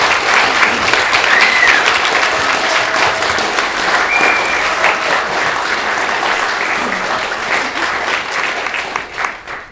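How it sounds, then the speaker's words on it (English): A packed house at the Romford Horror festival applauds the filmmakers before a Q&A, steady loud clapping from many hands that fills the room and eases slightly toward the end. "Let's have a round of applause"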